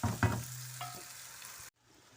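A masala paste of tomato, garlic and ginger frying in a pan for korma chicken, with a steady close sizzle and scraping stirs before it cuts off abruptly.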